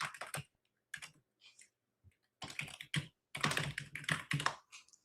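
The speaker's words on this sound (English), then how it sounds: "You probably hear my aggressive typing again." Bursts of fast, forceful typing on a computer keyboard, close up, with short pauses between flurries of clacking keys.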